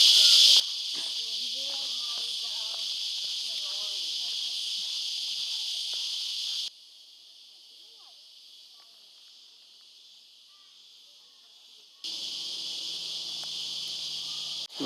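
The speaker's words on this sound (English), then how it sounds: "You can hear the cicadas in the background." A steady, high buzzing drone of cicadas in an Australian summer at Manly, New South Wales, fills the air, dropping away for several seconds before swelling back in, with faint chirps beneath.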